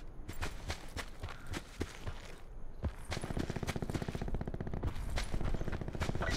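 Gunshots in a video game sniping match, a series of sharp reports at irregular intervals followed by a faster rattling run of shots, fairly close, with no talking.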